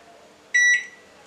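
A single sustained electronic beep from a microwave oven preheating to 200 degrees in baking mode, loud and close, lasting about a third of a second against a quiet background hum.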